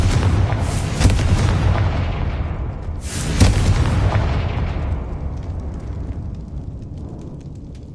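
A Confringo blasting spell in the Hogwarts video game sets off two loud booming explosions a few seconds apart, each a sharp burst followed by a long rumbling decay that fades into quiet.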